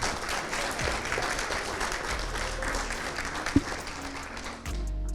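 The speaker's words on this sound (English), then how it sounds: "Let's give the panelists and the moderator one more round of applause." An audience at a speaker-series panel evening on non-profits applauds the panelists and moderator, a dense, loud round of clapping that carries steadily before cutting off near the end.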